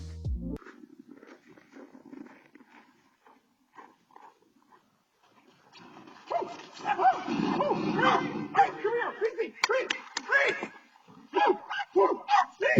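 A dog yips and barks in short bursts, with whimpering sounds, near a rhino rat snake; mixed in with lively voices that grow louder partway through.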